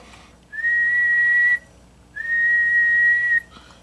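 A person whistles into a radio microphone on the bench with a Wawasee Blackcat JB-12 single 6BQ5 tube reverse preamp, producing two loud, clear, sustained steady-pitch tones separated by a brief pause.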